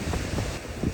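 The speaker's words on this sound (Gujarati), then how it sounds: "અહીંયા તો આવે છે પવન જોરદાર" Strong wind gusts outdoors near Dwarka buffet the microphone with a continuous low roar that swells and eases in waves, with no voices.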